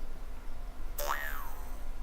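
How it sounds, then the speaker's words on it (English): A small Jew's harp from Portugal gives a single close, twanging boing that bends upward and then slides down as it fades, over a quiet background. "It's from a little Jew's harp that I picked up in Portugal."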